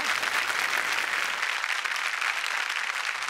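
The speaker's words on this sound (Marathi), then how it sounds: "अमोलक सिंग गाखल यांच्यासाठी जोरदार टाळ्या." An audience at a Marathi comedy show claps in sustained, dense applause for a few seconds, even and fairly loud from start to finish.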